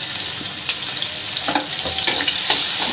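Chopped garlic and green chillies sizzle in hot oil in a pan, making a close, steady crackling fry with brief stirring scrapes and little pops throughout.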